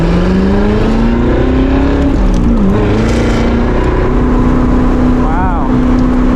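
A Callaway Corvette Z06 engine pulls hard at full throttle from inside the car, a loud, continuous roar with the pitch climbing, dipping at a gear change and rising again.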